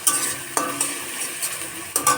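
Chicken kosha stirred in a frying pan with tomatoes, a spatula scraping in a few distinct strokes over a soft, steady sizzle, close and alone.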